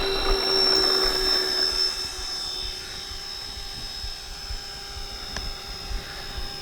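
An RC OV-10 Bronco model warbird plane takes off, its steady high-pitched engine whine loud at first, then easing slightly as it pulls away, with no talking.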